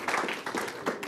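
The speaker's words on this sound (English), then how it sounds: "Ladies and gentlemen, a round of applause, please." Audience applause for speakers on a panel about EU-Australia relations: a short burst of clapping from a modest crowd, steady and fairly close, with no talking over it.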